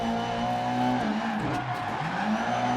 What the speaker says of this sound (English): Nice bit of handbrake there.